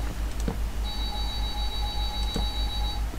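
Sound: alarm clock ringing

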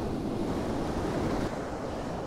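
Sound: waves splashing against rocks on a coastal cliff

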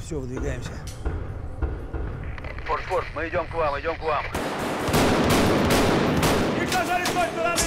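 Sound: gunfire in Escape From Tarkov video game

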